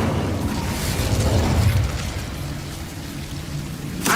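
The Incendio fire spell in Hogwarts Legacy lets out a dense whooshing, roaring burst of flame that sustains for several seconds. A sharp crackling flare follows at the end.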